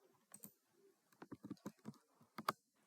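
Computer keyboard keys typed in a quick burst while a password is entered into an SSH terminal for an OverTheWire Bandit level, the clicks sharp, close and fairly quiet with short pauses, ending in a firmer Enter press.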